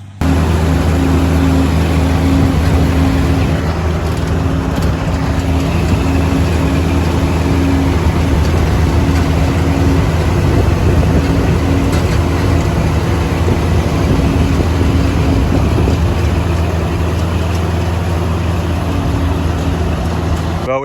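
An Allis Chalmers D19 tractor engine runs steadily and loudly during hay baling, a continuous low mechanical drone with broadband rumble throughout.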